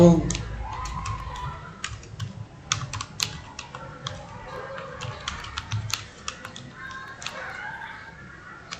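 Fingers type on a computer keyboard while text is entered in PowerPoint, giving an irregular run of quick clicky keystrokes over several seconds, with someone speaking softly underneath.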